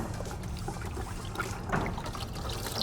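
A wash mitt rinsed in a bucket of waterless car wash solution, with soft close sloshing and trickling water for a few seconds, fairly quiet and without talk.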